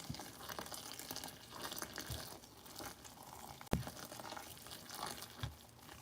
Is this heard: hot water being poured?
yes